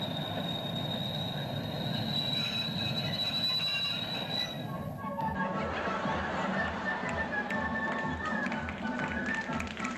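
Train rolling along rails with squealing wheels and a metallic whine, followed by rhythmic clacking and rumble after a sudden shift midway, moderately loud and close, with faint speech in the background.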